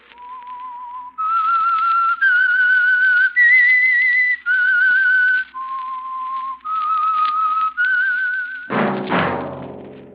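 A person whistles a slow melodic tune, the theme of a 1945 old-time radio mystery program, clear sustained notes stepping up and down, ending with a short burst of orchestral music.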